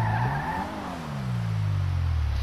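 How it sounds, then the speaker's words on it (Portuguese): Tires squeal as a Nissan 370Z Nismo launches in GTA V, a loud sliding tone over engine revving that rises and then falls away, with the car's engine droning on alone afterward. "Olha como que ele canta pneu pra sair."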